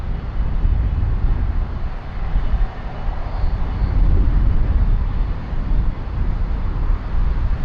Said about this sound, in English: There's something else taxiing out. I think it's Hainan.